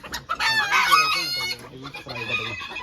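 Chickens cluck and a rooster crows loudly nearby on a poultry farm, overlapping calls filling the clip with some background murmur.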